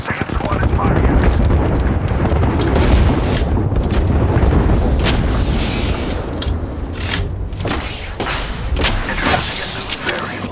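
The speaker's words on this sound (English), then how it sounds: "Heads up, we've got an airstrike." Airstrike explosions and gunfire in the video game Lifeline, with loud booming blasts and crackling shots layered densely and continuously, and sharp impacts punching through near the end.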